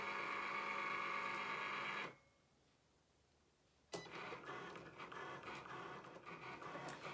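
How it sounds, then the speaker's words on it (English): A Cricut cutting machine runs on light cardstock with a steady mechanical whir and buzzing, pauses briefly into near silence, then resumes with fluctuating motor and carriage noise. "We're going to load this in our machine. It's still set on that light cardstock, so let's make sure that it cuts it."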